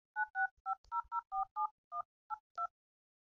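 Mobile phone keypad tones as a ten-digit number is keyed into an Airtel automated line, a quick series of about a dozen clean two-tone beeps, evenly paced with short gaps, clear and alone.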